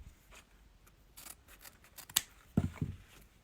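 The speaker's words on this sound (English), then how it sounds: "fold them in half, and cut from the middle out towards the wired edge" Scissors snip through wired ribbon folded in half, cutting from the middle toward the wired edge: a few short crisp snips and rustles, close and fairly quiet, ending in two louder chopping cuts.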